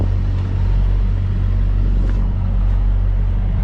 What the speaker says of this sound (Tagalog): Start natin yung truck.